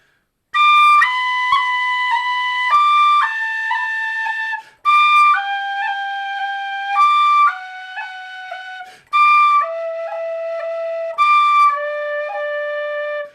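A tin whistle plays a short-roll exercise: bright, clear sustained notes in repeated phrases, each ornamented with quick cut and tap grace notes, loud and close with brief pauses between groups.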